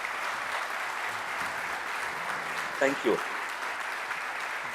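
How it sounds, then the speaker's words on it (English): Applause from a large audience of men clapping at a talk, steady and dense throughout, with a brief spoken thank-you near the middle over the clapping. "I want to hear the men clap on this one."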